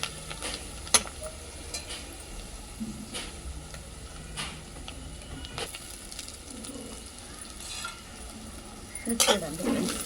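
Onions and curry leaves fry in a pan, giving a soft, steady sizzle broken by occasional stirring scrapes, with someone talking over it and birds cooing in the background.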